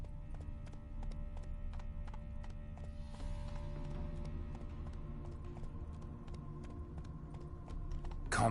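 Hooves of Roach, a horse in the video game Witcher 3, pound in a brisk, regular gallop at moderate volume, ending with a sharp louder burst.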